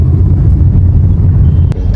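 Car driving on a highway, heard from inside as a loud, steady low road and engine rumble with no talk.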